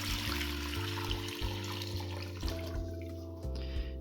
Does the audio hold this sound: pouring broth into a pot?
yes